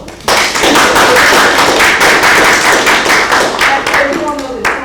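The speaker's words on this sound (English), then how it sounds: "And give him a round of applause." Dense clapping and applause from an audience at a swearing-in ceremony for the new mayor of District Heights, a steady roar of many hands lasting several seconds before thinning out at the end.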